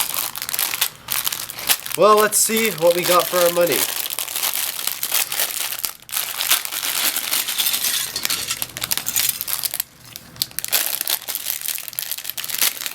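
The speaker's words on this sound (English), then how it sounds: "So we dump out the contents. They're in plastic bags." Plastic bags from a Hero Factory 4.0 Evo building set crinkle and rustle close by while someone speaks over the handling, with a brief tonal sound partway through.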